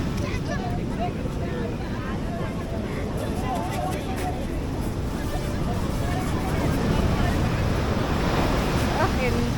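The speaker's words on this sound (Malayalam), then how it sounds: "ഇത് ഇച്ചിരി ഗംഭീര തിരയായിരുന്നു." Big ocean waves breaking at Cherai beach, a continuous heavy roar of surf mixed with wind buffeting the microphone, with people talking over it throughout.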